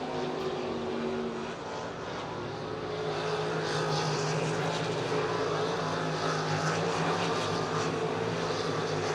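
RaceSaver sprint cars roar around I-90 Speedway, their engines forming a loud, sustained, droning wall of noise that swells slightly as the pack passes.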